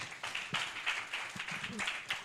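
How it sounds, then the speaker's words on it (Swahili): Worshippers in a church service clap in a steady rhythmic beat, soft and somewhat distant, with a few low voices murmuring underneath. "Tupigie Pastor Aaron makofi mazuri."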